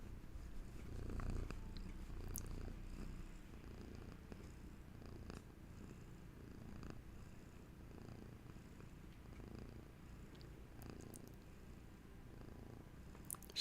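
A cat purrs steadily right up close, a low continuous rumbling drone with a soft rhythmic pulse, quiet and uninterrupted.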